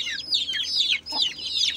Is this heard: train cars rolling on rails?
no